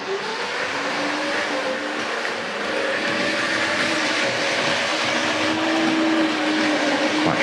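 A Hornby Dublo model DMU train runs steadily along its track toward a triangle station, giving a continuous whirring motor hum with a faint rolling rumble that swells slightly near the end.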